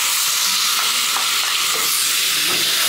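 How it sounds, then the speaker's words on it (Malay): Garlic sizzles steadily in a hot pan for a Malaysian mamak-style fried noodle dish, a dense continuous frying hiss with faint stirring scrapes, close and loud with no talking. "Okey, kita nak tumis bawang putih."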